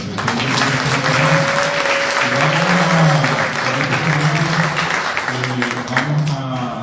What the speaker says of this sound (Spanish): yo creo que se merece un aplauso más fuerte.